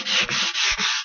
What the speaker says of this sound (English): a little bit break the corners with the sandpaper